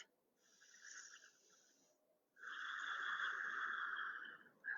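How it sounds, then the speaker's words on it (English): Deep breaths in a yoga class, drawn in and pushed out as long, airy, fairly close rushes, a softer breath followed by a stronger, sustained one, with no talking. "We'll take 5 big breaths."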